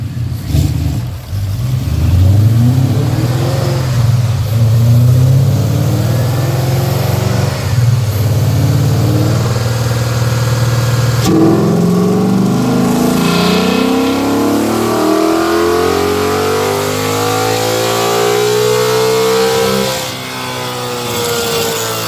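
A 2012 Ford Mustang GT with a Cobra Jet intake, running on pump gas, revs loudly on a dyno, its V8 note climbing steadily through a long sustained pull before easing off near the end.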